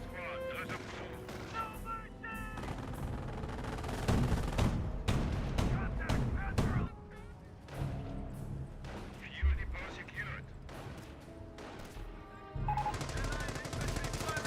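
Battle sounds from a Company of Heroes match: bursts of .30 cal machine-gun fire and rifle shots crackle in sharp, repeated volleys with a few heavier booms, while a commentator talks over the action.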